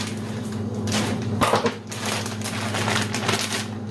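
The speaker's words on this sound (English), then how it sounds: "So I'm just going to cut the top of the bag off." Scissors snip the top off a plastic bag of coleslaw mix in a home kitchen, giving a few crisp cutting and crinkling bursts over a steady low hum, with no talking.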